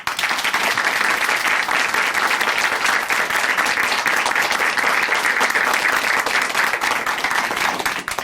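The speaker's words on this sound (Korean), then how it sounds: "다시 한번 귀한 간증 들려주신 자매님께 큰 박수 보내드릴게요." A studio audience claps together in sustained, dense applause for a testimony at a Korean church broadcast, loud and steady throughout with no pause.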